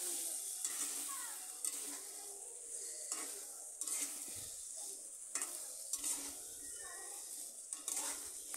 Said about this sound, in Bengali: মশলার সাথে শিমগুলো ভালো করে কষিয়ে নিতে হবে